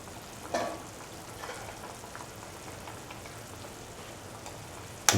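Eggs cook in a boiling tomato and potato mixture for an Afghani-style breakfast, giving a steady, even sizzle and bubble close up, with a soft clack near the start and a sharper knock at the end.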